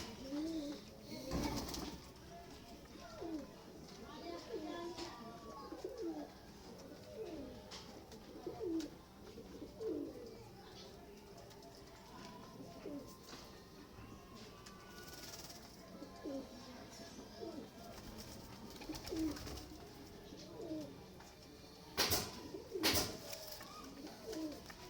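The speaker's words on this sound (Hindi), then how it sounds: "ये दोस्तों मेरा पट्ठा है जो टैडी और मियाँ नज़ीर साहब वाले कबूतरों में से क्रॉस है" Pigeons from a cross-bred breeding line coo repeatedly in soft, low bubbling calls, layered and ongoing at moderate distance, with a few sharper knocks and flutters breaking through.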